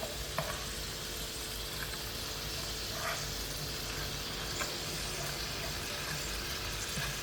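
Orange chicken sauce sizzles and bubbles steadily in a pan as it reduces, a dense, continuous frying hiss with faint stirring ticks.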